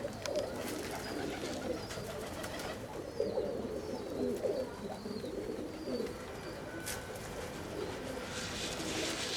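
Stray tumbler pigeons coo softly and repeatedly against a steady background hiss, with occasional faint chirps; the birds sound close but quiet.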